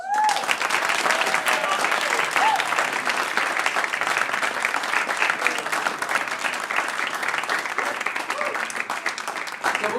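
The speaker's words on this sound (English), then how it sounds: "I would like to give for you to give them a round of applause" Sustained audience applause for musicians at a school music honor society induction ceremony, dense steady clapping filling the room at even loudness throughout, with no voices standing out.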